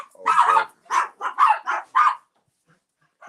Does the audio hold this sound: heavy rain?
no